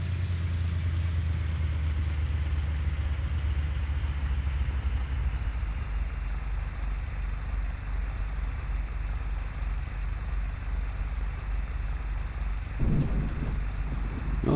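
A steady engine drone carries on as an aircraft comes in to land in Microsoft Flight Simulator, flying a VOR approach to KAJO. The hum is even and continuous, with a brief thump near the end.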